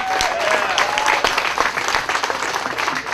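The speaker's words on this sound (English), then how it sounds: "So I want everyone to give a round of applause to Jonathan Carter." A crowd applauds warmly to welcome Jonathan Carter at a rally, a dense, steady wash of many clapping hands that holds loud throughout, with some voices mixed in.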